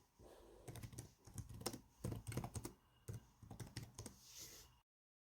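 Fingers typing HTML on a computer keyboard, a steady patter of close, quiet keystrokes in bursts with short pauses, ending in silence.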